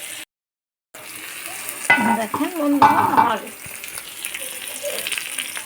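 A pumpkin vegetable roll frying slowly in a pan over low heat gives a quiet, even sizzle after a brief dropout, while a person talks over it for a few seconds.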